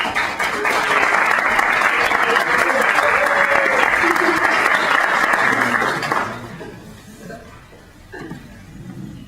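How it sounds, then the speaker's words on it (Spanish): Applause from a conference audience greets the speakers at an academic colloquium, loud and sustained for about six seconds before fading out, followed by quiet room sound. "empezamos con un aplauso para recibir a los conferencistas"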